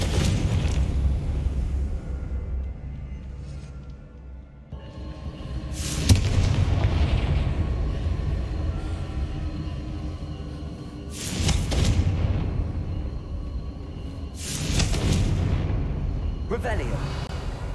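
Confringo blasting spells explode in the video game Hogwarts Legacy, three or four heavy booming bursts spaced several seconds apart over a low rumbling game backdrop.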